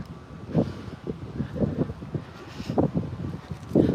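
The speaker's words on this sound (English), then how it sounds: "it is windy" Gusty wind at a Disney All Star resort buffets the microphone in rumbling, uneven bursts, loud and close, with no one speaking.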